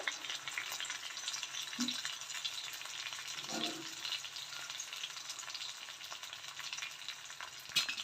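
Cashews and curry leaves fry gently in ghee for a Tamil Nadu style ven pongal, a faint, steady sizzle with a couple of soft stirring knocks in the middle.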